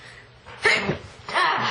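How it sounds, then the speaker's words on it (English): A woman sneezes twice in quick succession, with two sharp, close bursts about a second apart and a brief breathy intake before the first. "Excuse me. I'm sneezing."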